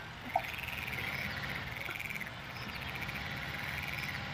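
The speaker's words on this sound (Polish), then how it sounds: "Żaby!" A continuous chorus of frogs croaking in the Farming Simulator 19 game, a steady pulsing trill at moderate distance over a low rumble of farm machinery, with one brief knock near the start.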